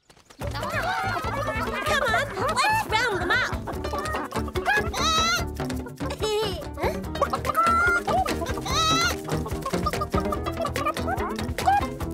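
Chickens clucking and squawking close by, busy overlapping calls with a voice talking among them.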